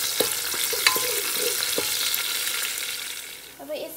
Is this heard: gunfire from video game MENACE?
no